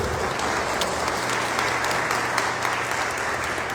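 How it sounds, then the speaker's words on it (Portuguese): Applause from a church congregation fills the space, a steady wash of many hands clapping close and loud with no pauses across the whole stretch. "Vamos aplaudir a palavra de Deus."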